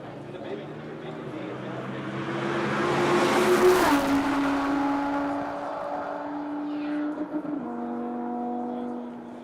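An Audi R8 on a top-speed run at a live event, its engine rising and then holding steady through gear changes as it passes at speed, with a commentator talking over it.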